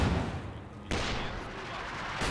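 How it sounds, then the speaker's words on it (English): Mortar fire in a video game lands as loud, abrupt booms with broad rumbling tails, one big blast near the start and another near the end, over a dense battle din. "Oh, they got a lot of mortars too."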